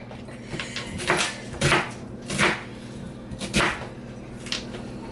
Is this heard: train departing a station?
no